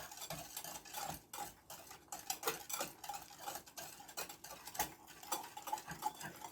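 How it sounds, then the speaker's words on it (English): A whisk works through sugar, lemon zest and cherries in a bowl for rock cakes, making a steady run of fast, light scraping and clicking strokes against the bowl, moderately close and with no talking. "I'm just going to use my whisk here."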